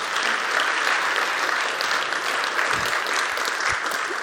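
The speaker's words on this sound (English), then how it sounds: "Big applause." Steady applause from a large crowd at an award ceremony, dense and continuous throughout.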